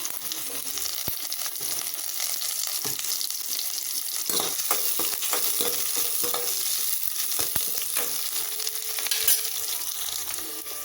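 Onions, garlic and curry leaves fry in hot oil in a pan for a Tamil dry fish kulambu, a constant close sizzle broken by the scrapes and clicks of stirring.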